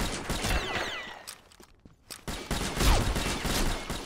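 Semi-automatic SR25 rifle fire in the shooter game Combat Arms, with sharp shots cracking in quick succession amid busy battlefield noise, briefly dropping to a lull midway before the firing resumes.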